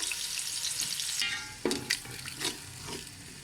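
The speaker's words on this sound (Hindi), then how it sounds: "प्याज डाल दिया और इसका हम करेंगे तड़का तैयार" Onions sizzle and crackle in hot oil, a steady frying hiss with a few clinks of a stirring spoon against the pan.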